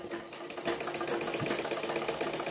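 A sewing machine stitches the neckline of a blouse, its needle running in a fast, even, steady rattle up close, with no voices.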